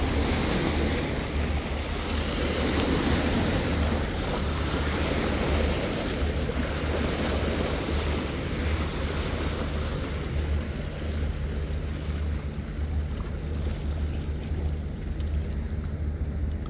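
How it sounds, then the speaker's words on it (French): Sea waves washing against a rocky shore at Martigues, a steady broadband rush of surf with wind buffeting the microphone, continuous and fairly loud with no voices. "Vague"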